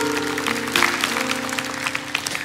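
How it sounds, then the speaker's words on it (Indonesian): A church congregation claps together in a steady, busy burst of applause over sustained instrumental tones, filling the hall at close range for a few seconds. "Kasih tepuk tangan untuk Tuhan."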